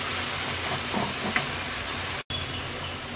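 Vegetables tipped into a hot pan of fried dried shrimp, giving a steady, even sizzle and crackle that holds at one level, with a brief cut near the end.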